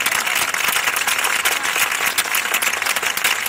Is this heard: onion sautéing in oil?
no